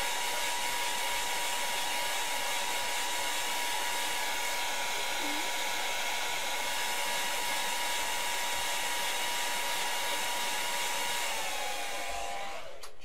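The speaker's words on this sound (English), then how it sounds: "I like to speed it up a little bit by using cool air from my hairdryer" A hair dryer blowing cool air in a steady, loud whoosh with a constant motor whine, running continuously before winding down near the end.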